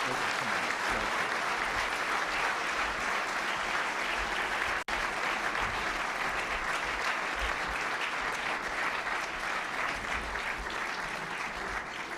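Sustained applause from a National Press Club luncheon audience for speaker Rudy Giuliani, a full room clapping steadily and evenly for over ten seconds without a break.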